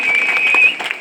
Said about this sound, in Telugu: ఒక్కసారి అందరూ గట్టిగా చప్పట్లు కొట్టండి